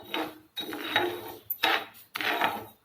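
Varai millet dry-roasting in a pan gives a rough, scraping stir in four sweeping strokes, each a loud gritty rasp with short pauses between.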